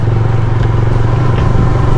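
Idling CNG-powered Bajaj Freedom 125 motorcycle, heard as a steady, smooth low engine hum with faint mechanical clatter, close and continuous.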